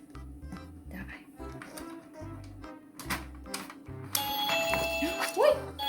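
A doorbell chimes while a child and an adult talk nearby, the bright ringing tone standing out over the voices toward the end.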